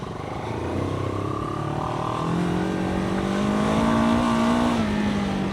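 A Moto Morini X-Cape 700 motorcycle revs hard climbing a hill, its engine note rising and holding high with a thrashy top end, loud and close throughout, with no voices.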